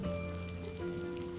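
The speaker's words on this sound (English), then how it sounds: "Thunder, lightning, raging, pouring, rain, on rain is pouring." Heavy rain pours steadily as a constant wash, layered over sustained tonal drones that run through the whole stretch.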